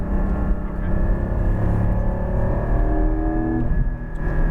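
Porsche 718 Cayman GT4 on a race track, its engine droning steadily loud inside the cabin with pitch sweeping as revs change through a downshift, no speech.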